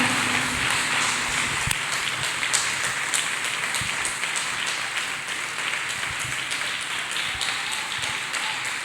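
Congregation clapping hands together during a church worship service, a dense steady patter of many palms sustained throughout, fairly close and even in level.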